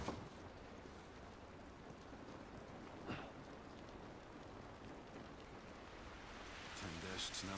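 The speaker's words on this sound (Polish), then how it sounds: "Ten deszcz nam nie pomaga." Steady rain pours down in the video game The Last of Us Remastered, a dense hiss of drops on surfaces that swells louder toward the end.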